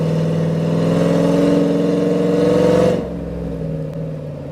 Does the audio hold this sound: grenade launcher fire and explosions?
no